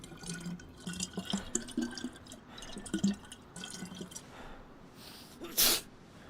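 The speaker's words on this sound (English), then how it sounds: "let's fill up my water bottle" Water bottle being filled in the video game DayZ: soft gurgling and trickling water with small drips, fairly quiet, followed by a brief louder splash or rush near the end.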